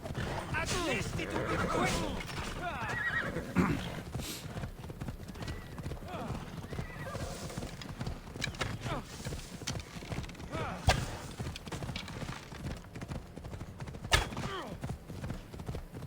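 Hooves clatter in a rapid galloping rhythm throughout in Assassin's Creed Odyssey, with occasional horse whinnies and sharp crashes, while someone talks over the action.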